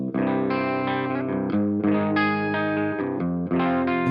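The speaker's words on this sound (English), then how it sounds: "So let's add the cab in now for the speakers and hear the difference there." A heavily distorted electric guitar plays sustained chords through a speaker cabinet, full and thick, changing chords every second or so, no voices.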